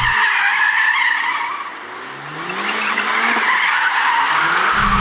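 A Mercedes-AMG A45 S slides with loud, close tyre squeal, its engine droning steadily underneath. The squeal dips briefly mid-slide, then rises again as it keeps skidding.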